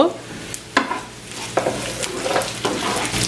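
Torn dried red chilies sauté in a hot pan for a drumstick leaf and shrimp stir fry, with a steady sizzle and repeated close scraping strokes of a spoon every second or so.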